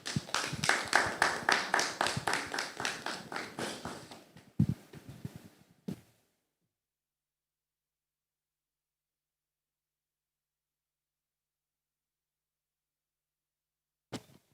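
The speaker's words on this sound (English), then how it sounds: "would you please welcome Doc with a round of applause" Audience applause greets a keynote speaker at a live Africa Digital Dialogue event on smart farming. Dense clapping fills the first few seconds, thins out and stops, leaving near silence with a faint sound at the very end.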